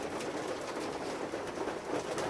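Male racing pigeons coo in a loft, a soft continuous burbling chorus of many birds together, steady and fairly close, with no speech.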